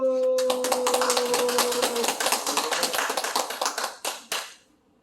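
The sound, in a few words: audience clapping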